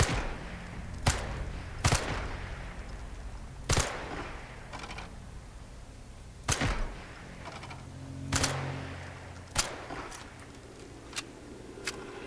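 SMG gunfire in the video game Sniper Elite 5: sharp single shots cracking out at irregular intervals, some a second apart and others several seconds apart, loud and close over a low steady background hum.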